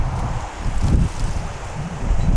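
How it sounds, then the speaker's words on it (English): A strong gust of wind buffets a microphone outdoors in a vegetable garden, a low roaring rumble that swells and peaks near the middle before easing off, with leaves rustling faintly. "Wait for the massive wind gust to go away."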